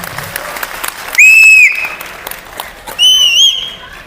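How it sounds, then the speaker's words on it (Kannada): Audience applause at a Kannada quiz programme, a close burst of clapping with two loud whistles cutting through the crowd noise. "ಇವರಿಬ್ಬರಿಗೂ ಒಂದು ಜೋರಾದ ಚಪ್ಪಾಳೆ ಮಾಡಿ"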